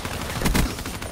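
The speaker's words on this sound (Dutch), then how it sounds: "Ik heb iemand door een muur heen geschoten met een SMG." A short, loud burst of rapid SMG fire in Call of Duty: Black Ops 3, dense overlapping shots over about a second.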